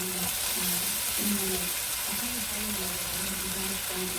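Garlic and onion fry in a pan with a steady, close sizzle and crackle, a constant hiss throughout with faint stirring underneath and no talk.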